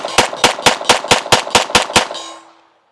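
Platypus integrated-comp pistol fired outdoors on a windy range: nine sharp, loud shots in a quick, even rapid-fire string, with a short ringing tail after the last round.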